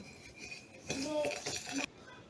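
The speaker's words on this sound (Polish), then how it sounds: "Dokładnie mieszamy." A spoon stirs a garlic marinade in a bowl, with metal clinking and scraping against the dish in a quick, close run of strokes that stops abruptly.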